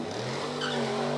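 An old work truck engine revving, a steady low droning rumble that swells slightly toward the end, heard alone without talk.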